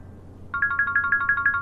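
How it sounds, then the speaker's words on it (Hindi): A phone ringtone in a Hindi-dubbed anime rings as a fast, even run of bright electronic pulses that starts abruptly and stays clear and alone. "रूना का फोन है।"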